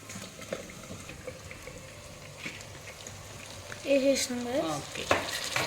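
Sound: cauliflower being added to a pan and stirred

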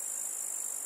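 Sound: grasshopper chirping

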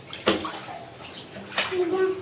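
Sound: water splashing while washing clothes

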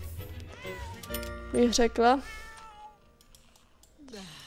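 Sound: cat meowing in video game The Sims 4

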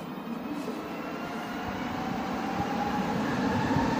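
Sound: Montreal metro subway train

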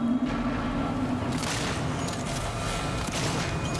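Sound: shotgun firing at robots in video game Alien: Isolation

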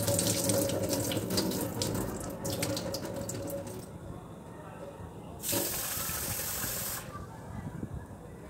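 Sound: washing rice and lentils under running tap water

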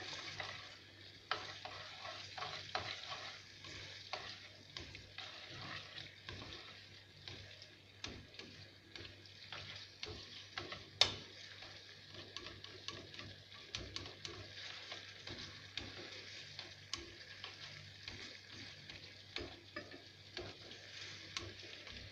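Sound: stirring black garlic in a pan

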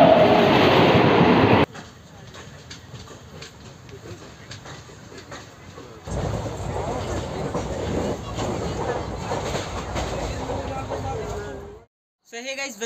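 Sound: train hauled by a WAP-7 locomotive

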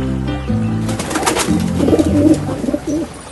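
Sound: pigeon cooing and flying away in animated fable

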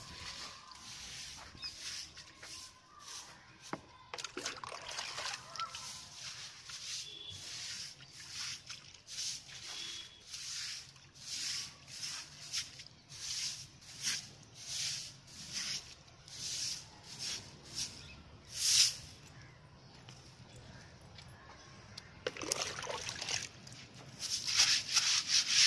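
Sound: washing and scrubbing a gate with water

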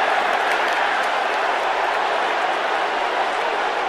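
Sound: stadium crowd cheering at an NFL football game

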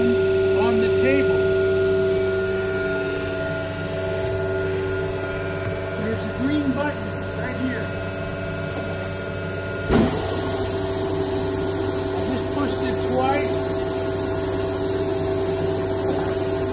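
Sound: CNC router vacuum table running

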